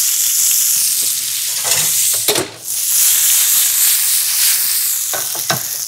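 Onions frying in a pan give off a loud, steady sizzle that fills the clip, with occasional sharper crackles and stirring scrapes breaking through.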